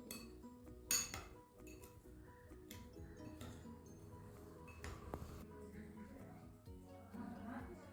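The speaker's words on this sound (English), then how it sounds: "And now I will stir it." A spoon stirs a fireless dough mixture with syrup in a bowl, giving scattered clinks and scrapes against the dish, one sharper knock near the start, with a voice talking underneath.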